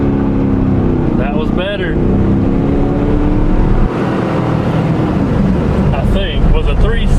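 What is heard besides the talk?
stock Z28 Camaro accelerating with wheels spinning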